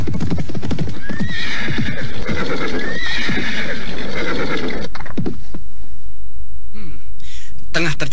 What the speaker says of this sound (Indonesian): kuda yang berderap kencang menuju gerbang kota raja